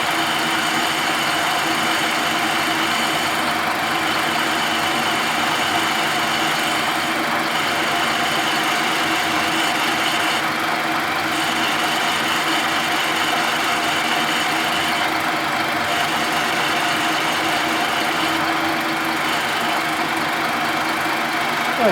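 Old horizontal boring machine facing a snout bar with an indexable-insert cutter, a steady droning machine hum with a continuous cutting hiss and faint periodic rhythmic swells, running without pause throughout.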